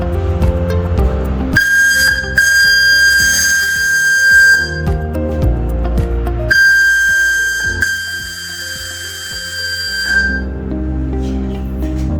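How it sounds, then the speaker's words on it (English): A loud, steady boat air whistle on an NT32 trawler blasts twice in long sustained tones, each held several seconds, with mechanical clatter and rattling between the blasts. "The new horn for the boat."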